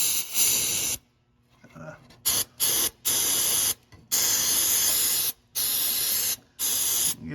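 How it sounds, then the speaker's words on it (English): Carburetor cleaner sprayed from an aerosol can onto a part of a Peterbilt 377 truck: loud, close hissing bursts, one long blast then several short and longer sprays separated by brief pauses. "got a little carb clean here"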